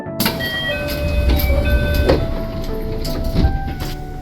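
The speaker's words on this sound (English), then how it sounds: "Once the doors closed, we left the station." Yamatoji Rapid Service train doors sliding shut with a thud, followed by the hum and whine of the train pulling away from the station, loud and close with occasional clunks.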